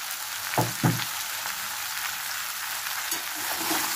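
Turmeric and whole tempering spices, with a pinch of salt and sugar, sizzle in hot oil for a spinach-stem chorchori: a steady crackling hiss broken by two sharp bursts early on, with no voices.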